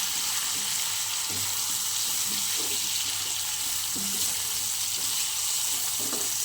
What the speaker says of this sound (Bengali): এবার সুন্দর করে আমি একটু কষিয়ে নেব।